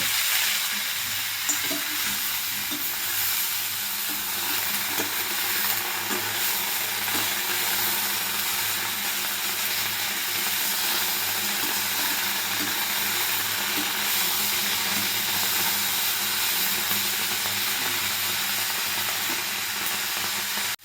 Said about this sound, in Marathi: तर गवारी भाजत असताना थोडंसं तेल टाकायचं आहे आपण